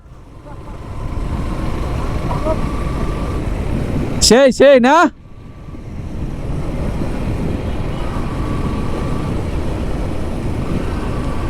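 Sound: Suzuki Gixxer Monotone motorcycle being ridden

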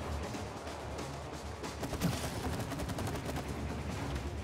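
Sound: gunfire in the video game It Takes Two

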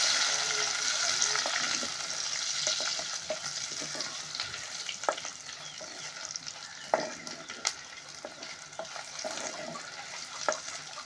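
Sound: shrimp and chillies frying in a pan

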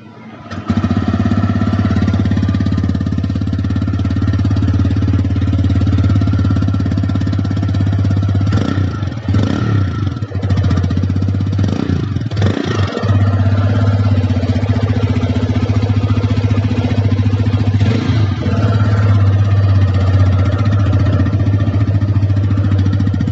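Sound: TVS Raider 125 motorcycle exhaust sound

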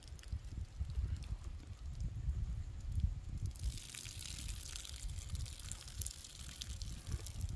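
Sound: water poured over Phalaenopsis orchid to soak it

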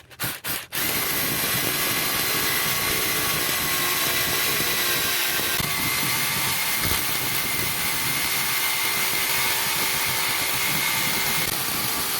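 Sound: power drill drilling holes for solar light pole base

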